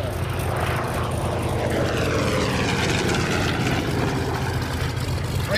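A P-40C Tomahawk and an A6M Zero propeller fighter fly past together with a loud, steady engine drone and a sweeping pitch shift, sustained and close throughout.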